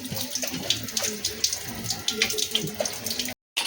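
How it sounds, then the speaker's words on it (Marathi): Running tap water splashes steadily into a sink as goat meat is rinsed by hand, with a short silent gap near the end. "आता मस्तपैकी असं धुवून घ्यायचं आहे चांगलं स्वच्छ पाण्यात"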